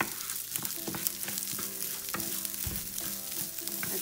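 Rice browning in butter and oil in a pan, a loud close sizzle with repeated scraping stir strokes, continuous, and no one talking.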